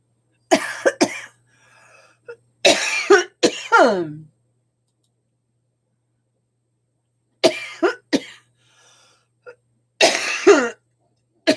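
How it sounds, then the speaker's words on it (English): Several bursts of harsh coughing, close and loud, in two clusters separated by a few seconds of silence. "I'm going to start coughing like crazy."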